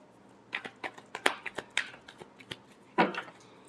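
Tarot cards being shuffled in the hands, a run of crisp riffling bursts with one louder flurry near the end, close and alone with no talking.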